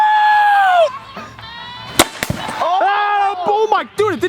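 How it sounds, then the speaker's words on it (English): A hockey puck from a slap shot smashes through a watermelon with a sharp, loud crack, surrounded by excited shouting and whooping voices. "You just literally put a puck-sized hole through the freaking watermelon."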